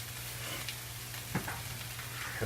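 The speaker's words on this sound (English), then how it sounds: "you're just going to keep moving this around and sauteing this until it is soft" Sloppy joe ingredients for a Carolina reaper and beer recipe sauté in a hot pan, giving a steady close sizzle with a few soft scraping stirs toward the end.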